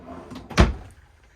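A single wooden dresser drawer in an RV bunkhouse fifth-wheel trailer closes with one short, solid knock, near and clear, with faint rustling before it and quiet after.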